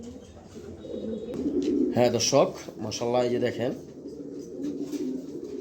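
Pigeons, including a handsome male from a pair offered for sale, coo low and continuously beneath a man's close, steady talking.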